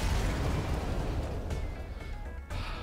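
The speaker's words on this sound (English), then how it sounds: "one last explosion marks your fate as your ship is torn apart." A ship explodes in the space strategy game FTL: Advanced Edition, a loud booming blast that rumbles and fades over a few seconds before a second sharp burst near the end.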